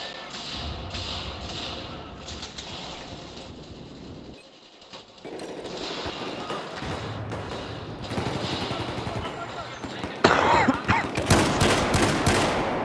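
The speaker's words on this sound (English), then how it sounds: "They're all using shotguns." Shotgun fire in a Battlefield 4 multiplayer match, repeated loud blasts and clattering gunfire with a short lull partway through, then a sharp cluster of close, heavy shots near the end.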